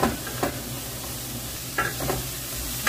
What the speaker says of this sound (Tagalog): Medyo nag-fry ng konti.